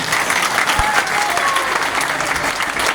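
Audience at a private school scholarship ceremony in Ashulia, Bangladesh, gives a loud, sustained round of applause that fills the whole stretch evenly, with no talk over it.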